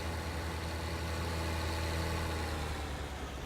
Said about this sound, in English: Might as well keep the engine going.